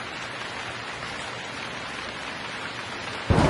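Rain falls in the video game Gemini Rue, a steady, soft hiss throughout, ending in a sudden louder burst of crackling static.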